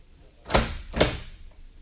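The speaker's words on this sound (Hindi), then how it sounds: "ये दरवाजा क्यों बंद किया आपने?" A door is shut indoors with two solid thuds about half a second apart, near and fairly loud, with no talking.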